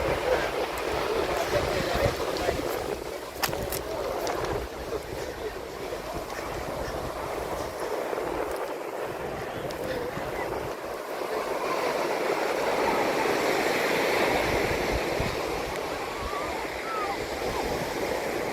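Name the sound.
waves at Odalarevu beach near Amalapuram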